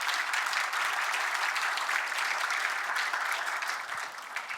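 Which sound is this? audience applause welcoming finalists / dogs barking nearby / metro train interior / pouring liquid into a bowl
audience applause welcoming finalists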